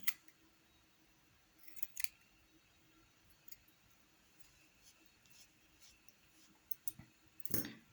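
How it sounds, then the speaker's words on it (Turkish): Scissors snip the tassel ends on a Tunisian-crocheted tasseled baby bootie: a few faint, sharp cuts spaced apart in a quiet room, with a clustered pair of snips near the end. "Evet alt taraflarını keseceğim."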